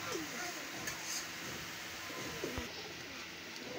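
Highflyer pigeons coo softly in the background amid a busy, noisy pigeon sale in Lahore, with someone talking over them.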